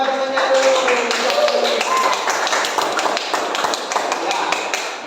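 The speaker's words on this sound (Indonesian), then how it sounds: "tepuk tangannya buat temannya dulu" Classroom children clap for a classmate, a dense patter of many small hands at steady volume, with an adult voice speaking over it at the start.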